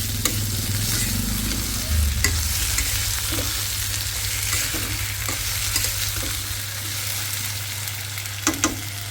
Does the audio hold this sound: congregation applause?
no